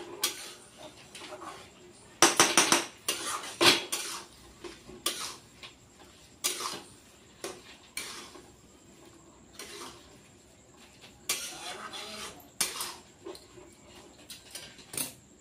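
Puri bhaji, a spiced potato curry, being stirred in a pan: a string of irregular scraping and tapping clinks of a utensil against the pan, some louder bursts, close by with a faint background hum.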